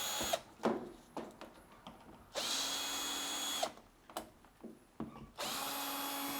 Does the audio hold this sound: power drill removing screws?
yes